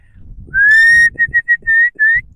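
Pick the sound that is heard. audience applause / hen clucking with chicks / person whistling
person whistling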